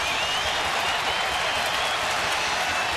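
Baseball stadium crowd at a Rangers vs Astros game, a dense continuous roar of applause and cheering from a large audience, loud and steady without a break.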